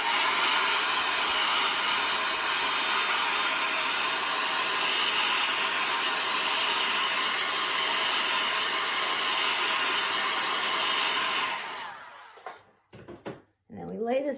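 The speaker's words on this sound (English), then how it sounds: "You can use a blow dryer to let it set a little bit." A hair blow dryer runs steadily, drying chalk paste on a stenciled craft project; its loud broadband whoosh holds for about eleven seconds, then cuts off, leaving a few knocks and a brief voice.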